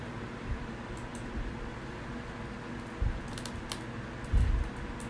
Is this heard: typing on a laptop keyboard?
yes